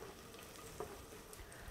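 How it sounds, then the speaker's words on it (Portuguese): Onion frying in a pan as the first seasoning step for duck, a faint, soft, continuous sizzle with a few small crackles. "Agora eu estou botando a cebola."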